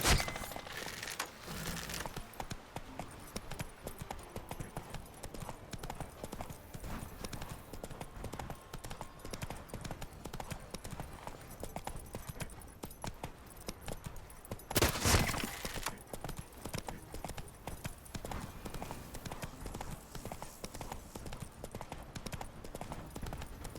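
In The Witcher 3: Blood and Wine, the horse Roach gallops under its rider. Rapid, steady hoofbeats clatter the whole way, swelling into a louder burst of impacts partway through, with no speech.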